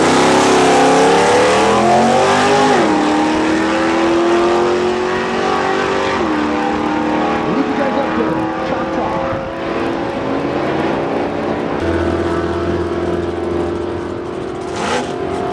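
Drag racing cars roar down the strip at Gimli Motorsports Park, engines revving hard in a loud, sustained wail that rises and shifts pitch as they accelerate, with no voices over it.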